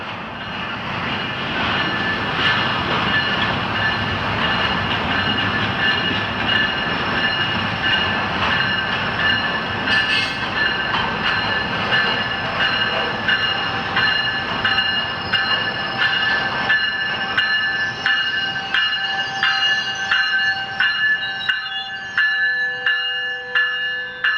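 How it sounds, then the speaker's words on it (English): A passenger train pulls into a station with a loud, steady rumble, and metallic wheel squeals and brake tones rise toward the end as it slows, with no voices over it. "Train number 714 now arriving."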